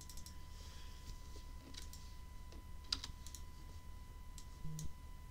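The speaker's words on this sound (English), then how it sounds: "I'll pause it so you don't have to go through my terrible typing again" Steady, fast typing on a computer keyboard, close and continuous, with a few sharper key clicks standing out over a low background hum.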